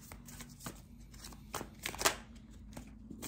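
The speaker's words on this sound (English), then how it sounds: "I want to get a couple more cards here" Tarot cards being shuffled and drawn, a close series of soft riffling flicks and snaps with a sharper card snap midway, in a quiet room.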